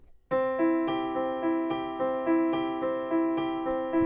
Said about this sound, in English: you can hear how the sound is sustained